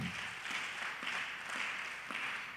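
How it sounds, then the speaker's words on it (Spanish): A church congregation applauds during a service, a faint, steady wash of many hands clapping together, heard from some distance with a few sharper pulses standing out. "¿Cuánto le dan ese aplauso a nuestro Dios en esta hora?"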